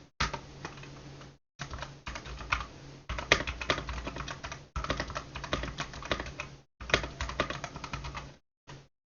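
A computer keyboard clacks in fast, busy bursts while text is typed and Enter is pressed. Several short pauses split the bursts, and the keys sound close and clear with no voices.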